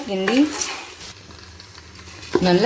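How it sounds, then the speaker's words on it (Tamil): Country chicken being stirred into masala in a pan for biryani, a soft frying sizzle and stirring under a voice talking at the start and again at the end. "இதை நல்லா மிக்ஸ் பண்ணிக்கணும். ஒரு 5 நிமிஷம் நல்லா"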